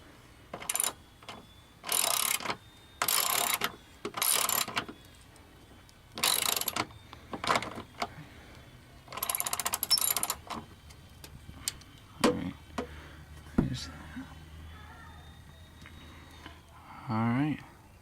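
Ratchet tightening strut bar bolts on a 1999 Subaru: close bursts of rhythmic clicking in short repeated strokes, then quieter handling noises toward the end.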